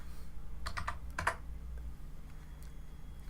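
A short flurry of quiet keystrokes on a computer keyboard, about half a dozen quick clicks clustered together, then only a faint steady room hum.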